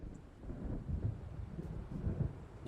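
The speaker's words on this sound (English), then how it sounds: "It seems there's a storm coming." Low rolling thunder from an approaching storm over open water in the Alan Wake video game, a steady dull rumble swelling and fading across the whole stretch with no voices.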